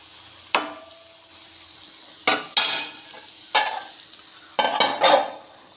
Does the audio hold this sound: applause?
no